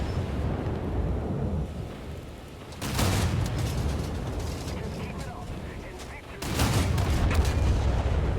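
Heavy naval guns of the cruiser Prinz Eugen firing in War Thunder, two loud booming salvos a few seconds apart over a constant rumbling sea and engine background, with a voice talking between them.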